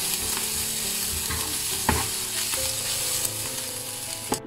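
Prawns and chopped onion leaves being stirred in a frying pan, with a steady close sizzle under repeated scraping strokes of a spoon against the pan and a few sharper clacks.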